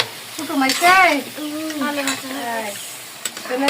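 Broiler chicken stirred and fried in a pan for guests at a home kitchen: a continuous close sizzle with scraping stirs, overlaid by a voice.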